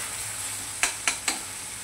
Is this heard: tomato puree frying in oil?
yes